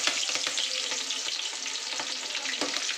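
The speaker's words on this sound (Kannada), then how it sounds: "ಈಗ ಕಟ್ ಮಾಡಿ ಇಟ್ಕೊಂಡಿರಂತ ಕಟ್ ಹಸಿಮೆಣಸಿನ ಹಾಕೋಣ" Chopped green chillies fry in oil with popped mustard seeds and curry leaves, a steady close sizzle with fine crackles and occasional soft stirring scrapes, no voices over it.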